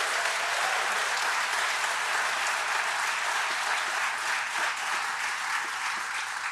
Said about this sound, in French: applaudissez-les chaleureusement